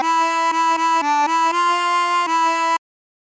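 A harmonica plays the opening phrase of For He's a Jolly Good Fellow, a run of sustained reedy notes with one bent note, close and steady for under three seconds before cutting to silence.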